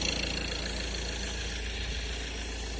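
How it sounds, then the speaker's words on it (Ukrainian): A Ford Transit Custom van engine idles steadily with a low, even rumble and faint rhythmic ticking, running smoothly and close by with no voices. "Тепер дивіться як має працювати моторчик."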